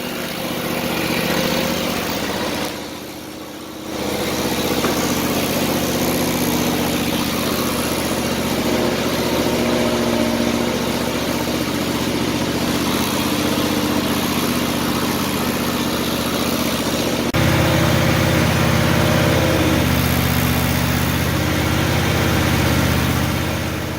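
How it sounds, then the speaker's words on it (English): A zero turn lawn mower engine runs steadily at close range after a repair to its hydrostatic drives, a loud continuous drone with a brief dip early on and a slightly heavier, lower tone in the last few seconds. "what I'll do is I'll turn on the mower now"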